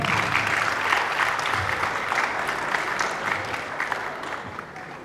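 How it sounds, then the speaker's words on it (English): An audience at a stage event claps steadily for about five seconds, a moderately loud, even round of applause with some crowd murmur beneath. "Round of applause again."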